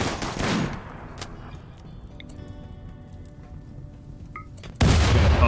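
Assault rifle fire in the RimWorld video game rattles out as a loud burst at the start, quiet crackles follow, and a second heavy, sustained volley comes in near the end.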